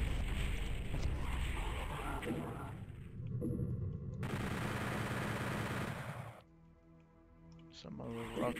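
Rapid gunfire from the video game Doom 64 on the Steam version's Plant Ops level, a dense, loud barrage of shots and blasts mixed with game noise that dips briefly before picking up again.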